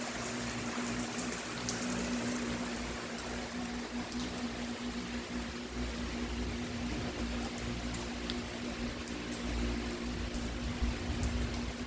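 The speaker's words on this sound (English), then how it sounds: "Serious rain going on right now." Heavy Florida rain pours steadily and loudly for the whole stretch, a dense continuous hiss of water with no voices.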